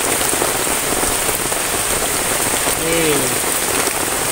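Heavy rain pours steadily in a forest during a thunderstorm, a dense, loud, unbroken hiss of drops on surfaces, with a brief voice speaking faintly beneath it.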